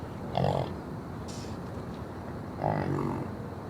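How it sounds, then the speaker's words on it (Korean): Two low, gruff grunting calls from a large high-altitude animal in the Pamir highlands, spaced a couple of seconds apart, heard over a steady outdoor background hiss. "울음소리도 소와 달리 꿀꿀거리는 특이한 소리를 낸다."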